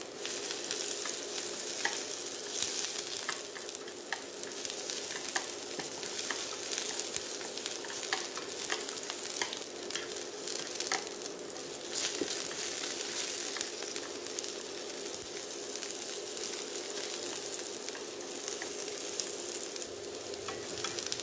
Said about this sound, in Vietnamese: Bây giờ cho nấm đùi gà vô mà mình chiên sơ lại nha.